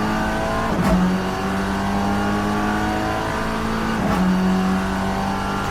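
A race car engine at the Bahrain round of a CMRSC Race of Champions event drones loudly and continuously from onboard, holding a steady high pitch with two brief shifts in tone, no voices over it.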